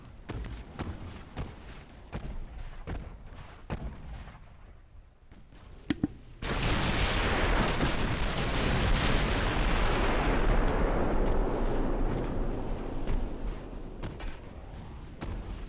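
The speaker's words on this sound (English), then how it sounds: "Our heavy cruiser hit 3 torpedoes on the Agano, and that was it for them." Torpedo hits and gunfire on the cruiser Agano in the naval battle game Ultimate Admiral: Dreadnoughts: scattered sharp gun reports, then a sudden massive roaring explosion that swells and rumbles on loudly, with further booming shots punctuating it.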